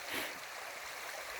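A brook that swells and runs hard after rain flows in a steady, soft broadband rush, a continuous close wash of moving water with no voices over it.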